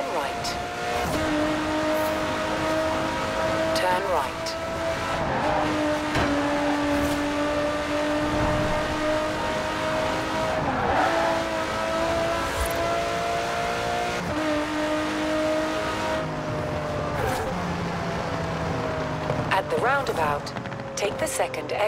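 An Aston Martin Vulcan engine roars steadily in a racing game, holding a high drone that rises and drops with gear changes and brief revs, loud throughout.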